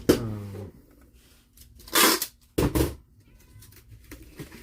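A house cat named Bing lets out a short, close meow at the start, followed later by a couple of brief scuffling noises in an otherwise quiet room.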